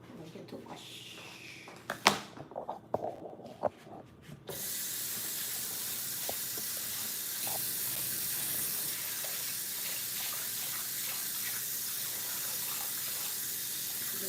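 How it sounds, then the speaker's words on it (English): Running tap water pours steadily into a bowl of basmati rice being rinsed of starch, a loud continuous hissing spray that starts abruptly after a few soft handling clicks and bumps. "You wash it out and get all some in the starch in it."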